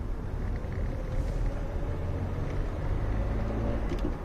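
A Citroën BX on the road, its engine and tyre rumble a steady, low, continuous drone heard from inside the car, with no voices.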